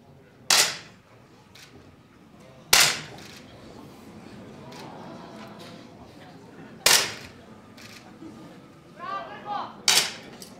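Shots from a 10m air pistol final at an ISSF World Cup in Changwon, Korea, sounding as sharp, isolated cracks spaced several seconds apart over quiet hall ambience, with faint murmuring near the end.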